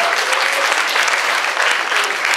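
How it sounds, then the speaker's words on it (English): An audience at a Kuala Lumpur Fashion Week 2017 press conference applauds loudly and steadily, a dense wash of many hands clapping that fills the whole stretch without a break. "I think we should all give ourselves a round of applause"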